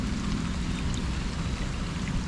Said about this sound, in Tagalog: Yun po, lakas ng tubig oh.